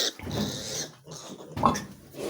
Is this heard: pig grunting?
yes